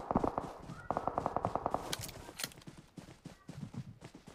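Automatic gunfire in the battle royale game BGMI rattles out in a fast, close string of shots, then gives way to a few scattered cracks and footstep-like thuds.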